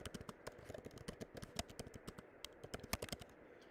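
Someone types on a computer keyboard, a close, quiet run of quick, uneven key clicks with brief pauses and no voice.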